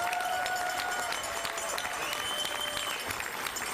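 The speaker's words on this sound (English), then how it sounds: "Another round of applause for these stellar constitutional officers." Crowd applause at a political victory speech, loud and sustained clapping from a large gathering with a few cheers rising above the steady roar.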